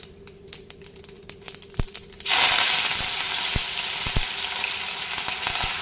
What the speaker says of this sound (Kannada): ಈಗ ಕಾದಿರೋ ಎಣ್ಣೆಗೆ ಸಾಸಿವೆ